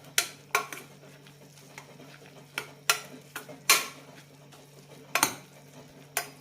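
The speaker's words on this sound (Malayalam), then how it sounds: "പയറൊക്കെ നന്നായി വെന്തിട്ടുണ്ട്. ഒന്ന് ചെറുതായി മാഷ് ചെയ്യാം." A pot of cooked green gram sprouts being mashed, with irregular, close scraping and knocking strokes of a utensil against the pot over a faint steady hum.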